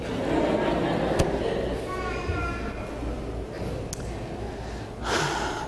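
A voice imitates snoring with rough, nasal snorts at close range, mixed in among his own speech.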